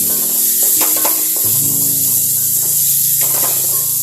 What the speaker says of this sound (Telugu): ఇప్పుడు ఇందులో కట్ చేసి పెట్టుకున్న టమాటోస్ వేసుకోవాలి.